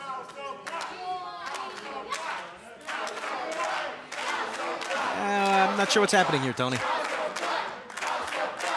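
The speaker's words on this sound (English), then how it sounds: "She's starting the House of Black cheer." Wrestling arena crowd joining the House of Black cheer, rhythmic chanting and clapping swelling in waves, with commentators talking over it.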